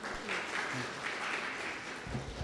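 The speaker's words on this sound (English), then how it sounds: "Please give her a round of applause." A round of applause from an audience at an academic lecture as a vice-chancellor is welcomed to the stage, fairly soft, steady clapping with a few brief voices mixed in.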